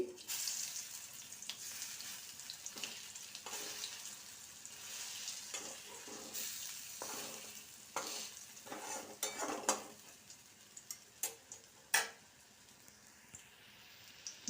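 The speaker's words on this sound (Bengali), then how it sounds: "এই মুসুরি ডালের বড়া ভাজাটা একদম কমপ্লিট হয়েছে" Masoor dal fritters fry in hot oil with a steady sizzle, punctuated by sharp clinks and scrapes of a spatula against the pan as they are turned.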